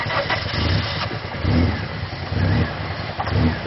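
Car engine with a blown head gasket runs rough and uneven, pulsing in lumpy surges as it idles close by.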